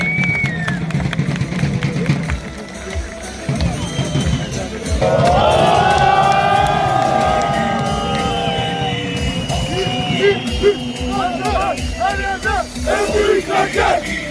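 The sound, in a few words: crowd applause and cheering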